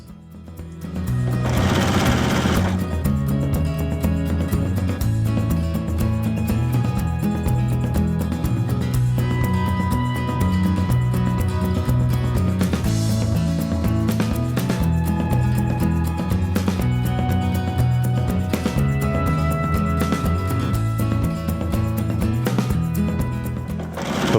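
Sewing machine stitching quilt block seams from orange fabric squares, a steady loud motorized whir with rapid needle clatter running continuously throughout, with no talking.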